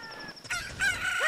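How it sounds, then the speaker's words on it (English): A rooster crows in The Legend of Zelda: Ocarina of Time, one loud, drawn-out cock-a-doodle-doo rising over quieter game sounds. "Cock-a-doodle-doo!"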